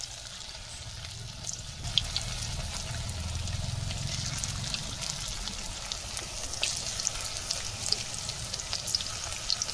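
Banana flower fritters (mochar bora) fry in hot oil in a remote Sundarbans village kitchen, giving a soft, continuous crackling sizzle with small pops and no voices over it.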